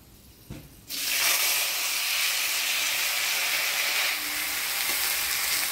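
Freshly washed chopped vegetables hit hot oil tempered with black cumin and set off a sudden loud sizzle that holds as a steady, hissing roar.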